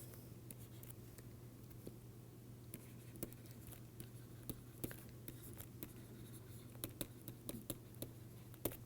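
Chalk or marker strokes tap and scratch in short, irregular bursts while a lecturer writes an equation during a class on support vector machines, set against a steady low room hum with no talking.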